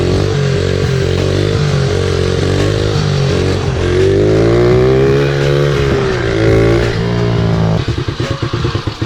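Mazda Miata engine idling rough, running rich and breaking up, with a steady loud drone that wavers and stumbles, then sputters into uneven popping near the end.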